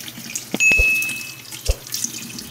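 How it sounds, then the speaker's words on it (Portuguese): Water poured from a container onto the potting substrate of a freshly repotted houseplant, a short splashing trickle with a few drips, close and clear, no talking. "Que a gente bota a água e a água desce, galera."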